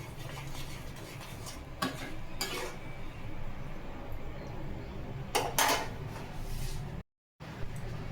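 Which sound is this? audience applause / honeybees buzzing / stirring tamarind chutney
stirring tamarind chutney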